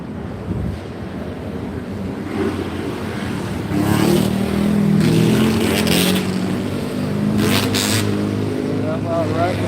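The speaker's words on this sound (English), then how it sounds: "That loud racket is the ATVer going by on their bikes, a couple of them off wheelies." ATVs roar past on a city street in Kansas City, a couple of riders pulling wheelies, their engines a loud continuous racket swelling and fading under heavy wind buffeting, with a voice talking over it.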